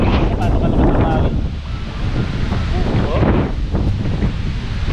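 Strong typhoon wind from Typhoon Ulysses roars and buffets the microphone in steady loud gusts, with rumbling low noise and no clear speech.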